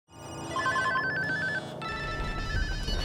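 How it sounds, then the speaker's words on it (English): Several phones ring at once, their electronic warbling tones overlapping in a short, steady chorus over a low rumbling background. "everyone's phone simultaneously rings"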